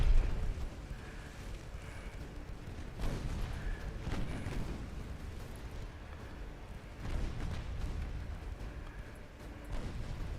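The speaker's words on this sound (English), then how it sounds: "There's a torpedo hit." Deep, rolling booms of a torpedo striking a warship in the naval strategy game Ultimate Admiral Dreadnoughts, with heavy blasts around three, seven and ten seconds over a continuous low battle rumble. No voices.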